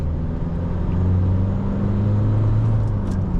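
A 2024 Isuzu D-Max 1.9 with manual gearbox drones steadily as it turns left and shifts into third gear, a low continuous engine hum with small pitch changes inside the cabin.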